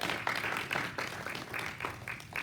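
A Sunday service congregation claps and cheers, producing a fairly quiet, slightly distant patter of applause with uneven rhythmic bursts throughout.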